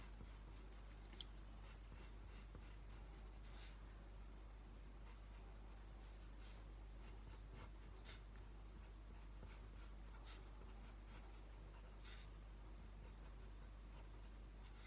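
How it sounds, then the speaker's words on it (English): Pencil scratching over a drawn outline on paper, a faint steady scraping with soft repeated strokes over low background hum, no voices. "I did my first outline in a slightly lighter mark of pencil, and then when I'm more confident that that is the shape, I'm going back over it"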